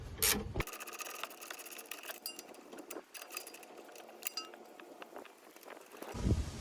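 A wrench loosens the stabilizer link nut on a Chevy Equinox, producing rapid metallic ratcheting clicks and clinks, close and fairly quiet, framed by louder thumps at the start and end.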